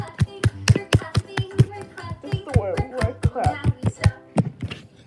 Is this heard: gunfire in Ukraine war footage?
no